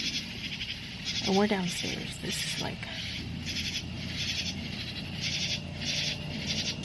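Goats bleat a few times early on, a short wavering call rising over a loud, steady pulsing insect-like drone, with a person talking indoors throughout.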